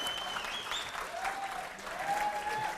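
Podcast studio audience giving a big round of applause for Fred, dense steady clapping throughout with a little chatter and cheering mixed in.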